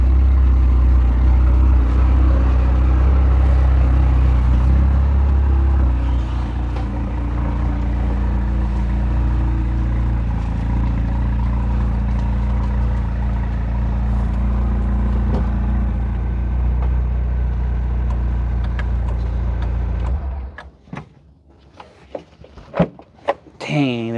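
Loud, steady engine drone and heavy road rumble fill a car cabin for about twenty seconds, then drop away abruptly, leaving scattered knocks and handling noises; voices are faint or absent.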